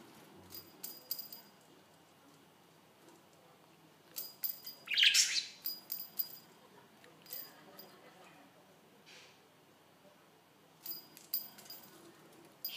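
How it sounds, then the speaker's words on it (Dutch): A pet bird gives sparse high chirps and a brief louder burst of tweeting in a quiet indoor room, with faint clicks and long pauses between calls. "Gekke vogel."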